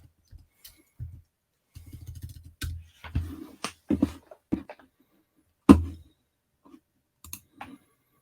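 Computer keyboard being typed on in short, irregular bursts of close clicks separated by brief pauses, with no talking.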